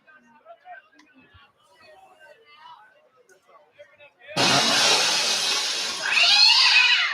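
A roaring cat yowl sound effect blares over a ballpark's speakers at a high school JV baseball game, loud and sustained for about three seconds, following quiet chatter from the crowd.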